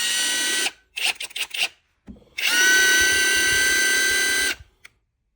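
A Harbor Freight Bauer 1/2 inch cordless impact wrench whirring freely, first a string of short trigger blips, then a sustained high motor whine for about two seconds before it stops, close and loud.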